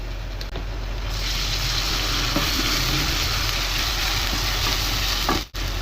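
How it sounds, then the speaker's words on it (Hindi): Onions sizzle with garlic ginger paste in a pan, a loud continuous frying hiss with occasional stirring scrapes, briefly cutting out near the end. "अब हम इसको उस वक्त तक फ्राई करेंगे जब तक इसका कलर हल्का सा गोल्डन हो जाए"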